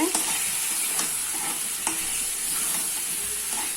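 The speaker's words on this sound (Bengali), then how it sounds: "মুরগির মাংস আলু টমেটো সব একসাথে কষিয়ে নেব" Chicken, potato and tomato stir-fried together in a pan, giving a steady close sizzle with scraping stirs and occasional clinks of a utensil against the pan, no voices.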